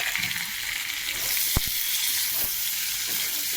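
Salt, turmeric, ginger paste and dried and green chili paste sizzle steadily in hot oil in a pan, a close broadband frying hiss with a couple of sharp clinks of a stirring utensil.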